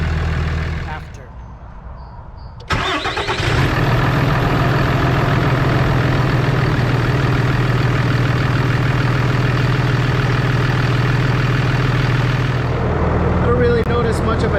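A 6.7L Cummins turbo diesel pickup fitted with a Banks Ram Air intake cranks and settles into a loud, steady idle, a deep continuous rumble with turbo whine, close by, after a brief quiet start.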